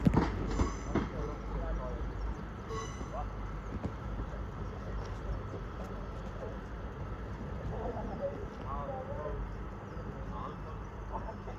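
Class 153 diesel unit 153362 leaves Crewe station for Chester, heard as a low, distant rumble with a clattering start and faint background voices.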